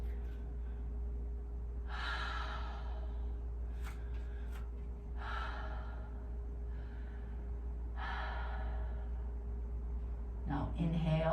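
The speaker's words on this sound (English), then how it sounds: "we will breathe 3 deep breaths that are audible in the Ujjayi" Slow, deep Ujjayi breaths taken in a yoga downward facing dog, three long breathy rushes a few seconds apart, close and fairly soft over a steady low hum.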